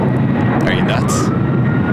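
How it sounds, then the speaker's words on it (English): A converted Northern Air Cargo Boeing 767 jet at LAX roars with a loud, continuous engine rumble, with a voice and radio chatter faintly over it. "Northern Air Cargo, a converted 767,"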